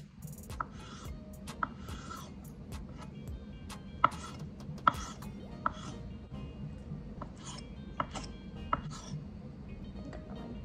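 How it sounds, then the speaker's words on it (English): Knife strokes chopping fresh mozzarella on a cutting board sound as soft, irregular taps and thuds, close and fairly quiet, with a few sharper knocks mixed in. "And then you can chop this up into whatever kind of size pieces that you want."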